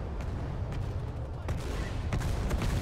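Gunfire during a video game battle, with scattered sharp shots and bursts cracking out at irregular intervals over a steady rumble, moderately loud and somewhat distant.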